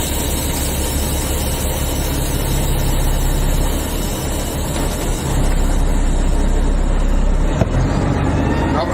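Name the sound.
18-speed truck engine running in fifth gear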